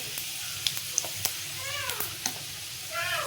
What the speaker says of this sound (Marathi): त्यात चिरलेला दोडका आणि भिजवलेली मुगाची डाळ टाकायची आणि असं मिक्स करून घ्यायचं